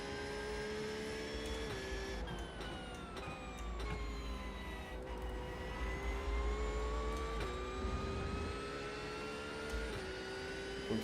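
A BMW GT race car engine in the iRacing sim at Road America drones steadily, its pitch sliding up and down through gear changes, loud and continuous throughout.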